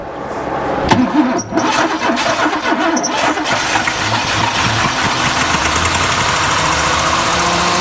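An old Pontiac Firebird engine, rusty and recently primed, cranks and catches, settling into a loud, steady rough running drone with a knocking undertone that continues close up to the end.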